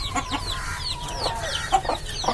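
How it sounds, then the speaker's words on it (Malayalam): Native and fancy-breed chickens cluck steadily at close range, with soft repeated calls overlapping over a constant low background hum. "നാടൻ കോഴികളും ഫാൻസി കോഴികളും കോഴികളൊക്കെ ഉണ്ടായിരുന്നു"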